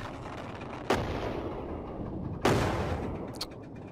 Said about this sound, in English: I'm gonna use this thruster instead.